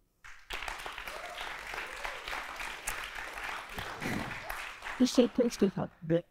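An audience claps in a steady, sustained wash of applause, with a voice speaking over it toward the end.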